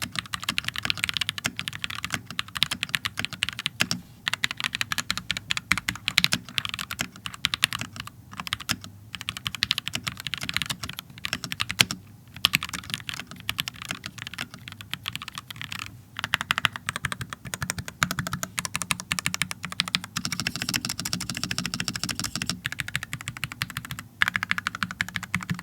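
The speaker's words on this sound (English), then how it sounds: "How does it sound?" Steady, rapid typing on a budget $75 Amazon mechanical keyboard, crisp clacky keystrokes in continuous bursts with brief pauses, close and fairly loud, no voices.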